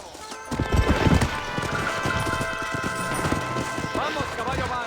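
Horse hooves clip-clop in a Western-style video game mission, a quick run of hoofbeats under background music, with a neigh and some voice sounds mixed in.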